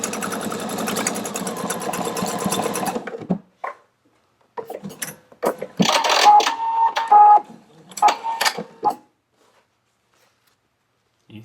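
A Pfaff Quilt Expression 720 sewing machine stitches a mitered corner, a dense rapid whir for about three seconds. Brief clicks and short mechanical bursts with gaps of quiet follow.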